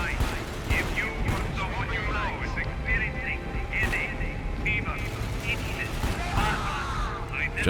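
Gunfire from the video game Dark Sector crackles in dense, continuous bursts and volleys at steady loudness, mixed with game noise and occasional talking throughout.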